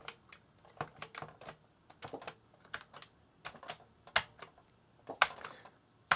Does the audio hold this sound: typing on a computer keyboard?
yes